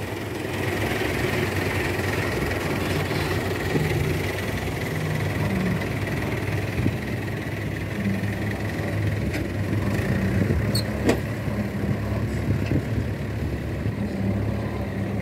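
An old 575-model tractor from about 1998, hauling a fully loaded trolley of soil, its diesel engine running with a steady low rumble and vibration that holds for the whole stretch, with a few faint clanks.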